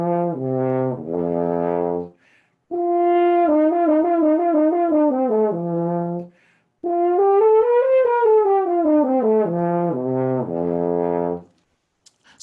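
A horn plays overtone-series exercises: clear brass notes step up and down in short phrases with slurred leaps between pitches, separated by brief pauses and heard alone.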